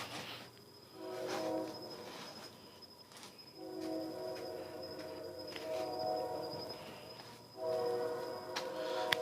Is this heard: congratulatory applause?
no